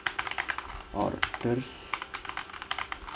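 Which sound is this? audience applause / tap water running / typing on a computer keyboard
typing on a computer keyboard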